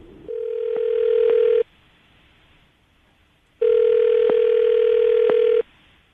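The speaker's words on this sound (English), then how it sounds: "I'm going to call her right now, see if we can get her on the phone." A steady telephone tone sounds, drops to silence, then returns as a second long ring, loud and close, like a call connecting on the line.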